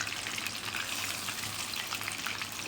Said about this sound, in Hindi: फिश फ्राई हो चुकी है, देखें इसके ऊपर कलर भी प्यारा सा आ गया